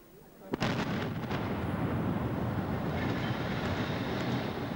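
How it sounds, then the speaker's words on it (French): A sudden demolition blast brings down tower blocks, followed by a long, heavy rumble of collapsing debris that roars on steadily, loud and distant-sounding. "L'explosion a lieu quelques minutes plus tard."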